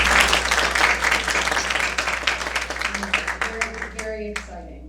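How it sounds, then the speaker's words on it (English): Audience applause at a Rivers Coalition meeting, a dense wash of many hands clapping close by that thins into scattered claps and a few voices as it fades out. "Let's give Mark a round of applause"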